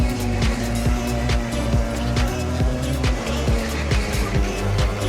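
Race car in a racing game roars along at full speed, engine droning loudly and continuously with repeated tire squeals and rumbles, close and busy throughout.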